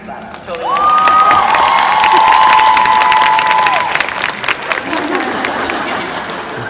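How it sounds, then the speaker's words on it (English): At a comic convention interview, the crowd breaks into loud clapping and cheering that swells quickly and holds, with shouts and a whistle-like cry rising above it before the applause slowly thins out. "Yes, you can clap."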